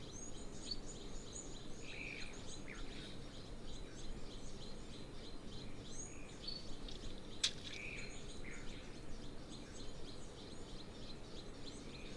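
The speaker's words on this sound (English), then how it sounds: "What bird is that? That's really annoying me." Faint, repeated bird calls rise over steady outdoor background noise at a waterhole, chirping at intervals from a distance.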